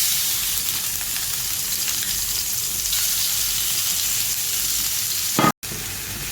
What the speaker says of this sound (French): je fais bien revenir mes oignons